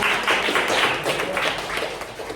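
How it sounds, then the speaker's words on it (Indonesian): A classroom group claps together in a lively burst of applause, many hands patting quickly and unevenly at a steady level for a couple of seconds. "Tepuk tangan dong semuanya."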